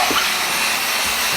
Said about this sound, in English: we got my hair dryer here ready